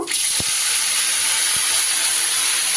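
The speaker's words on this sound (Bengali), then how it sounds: "বাকি মাছগুলো ভেজে নেব।" Small fish sizzle in hot oil with a steady, bright hiss and a couple of brief pops near the start, close and continuous throughout.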